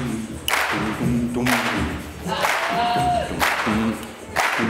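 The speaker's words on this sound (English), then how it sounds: "Let's get a clap." An audience at a podcasting keynote clapping in unison, loud rhythmic bursts repeating about once per second with crowd noise between them.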